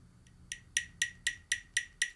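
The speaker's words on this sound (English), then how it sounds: "But I'm setting the metronome." Rapid, evenly spaced metronome clicks at 240 BPM tick sharply in a fast steady pulse, alone against a faint low hum.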